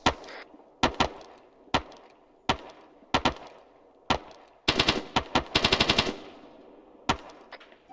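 Rifle fire rings out during an army section training drill: loud, sharp single shots at irregular intervals, then a rapid cluster of bursts midway before isolated shots resume, with no talking.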